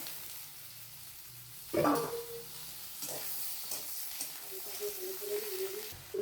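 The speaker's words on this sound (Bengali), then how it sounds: "দিয়ে দেবো কেটে রাখা আলু" Cut potatoes dropped into a little hot white oil with cumin, giving a sudden sizzle and then a steady low frying hiss with faint stirring scrapes close by.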